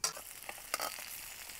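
Onion masala with red chilli and coriander powders sautés in a pan, giving a soft close sizzle with a few quick stirring scrapes over a short stretch.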